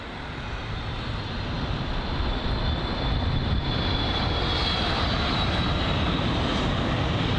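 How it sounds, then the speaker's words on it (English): Jet engines of a Boeing 757 at London Heathrow roar in a broad, steady rumble that swells slightly and holds loud for the whole stretch, with no voices. "so that 757 should be making its way over to us"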